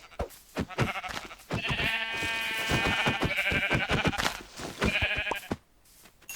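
Sheep bleat loudly and repeatedly in long wavering cries in Minecraft, close by, with soft footsteps and clatter in between.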